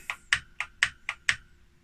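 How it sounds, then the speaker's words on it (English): Keys clack on a 1985 Acorn Electron home computer keyboard, six crisp, evenly spaced presses with a bright ringing tone, close and alone. "I'm going to try the keyboard just to show you how the lag was quite apparent on that bit of software"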